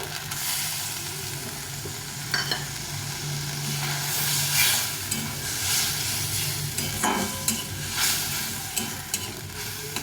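Chilli spice paste sautéing in a pan for a light fish curry, an ongoing sizzling hiss with bursts of louder frying and a few scraping stirs, close and steady without speech.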